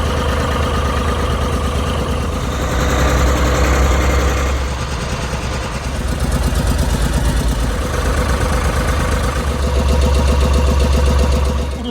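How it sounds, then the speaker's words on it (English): A sports tractor engine runs loud and close with a steady, rough mechanical rumble that swells and dips slightly, alone without talk. "Sports tractor!"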